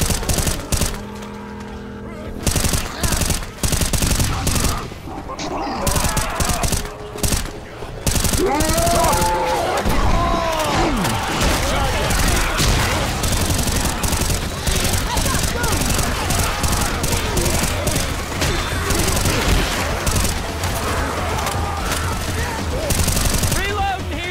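Rapid automatic gunfire bursts from a Left 4 Dead 2 match, loud and sustained, overlapping with game noise and talking voices throughout.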